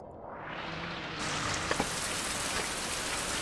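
Rain falls in the survival video game Survival: Fountain of Youth, a steady soft hiss of drops on surfaces that swells louder partway through, with a couple of brief taps and no talking.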